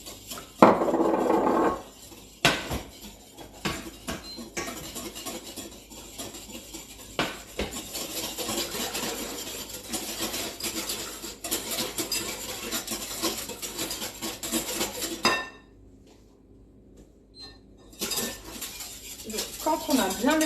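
Egg white and 130 g of cream are whisked in a bowl, giving quick, rhythmic metallic clinks and scrapes that run steadily, pause briefly, then resume, with a voice speaking at points.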